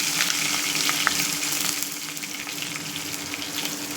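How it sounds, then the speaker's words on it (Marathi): Garlic, curry leaves and asafoetida frying in hot oil, a dense continuous crackling sizzle heard close up with faint stirring and no talking. "आपल्याला लसूण टाकायचं कढीपत्ता टाकायचा कढीपत्ता थोडा होता माझ्याकडे हिंग टाकायचा"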